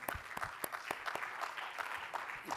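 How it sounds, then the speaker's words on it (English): Audience at a resilience forum session claps warmly, a dense, even patter of many hands held for a couple of seconds at moderate distance. "Can you please give a warm applause for your resilience too?"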